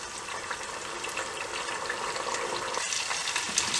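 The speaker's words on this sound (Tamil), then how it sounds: "அரைவாசி அந்த கற்றாழையும் நெல்லிக்காய் சாறும் வற்றி கொண்டு வருது" Aloe vera and amla juice simmer and reduce in a pan for a natural hair oil, a continuous close bubbling sizzle with a brief dip near the end.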